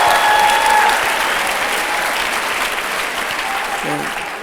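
A church congregation applauds, steady clapping from many hands that starts loud and slowly tapers, with a brief voice near the end.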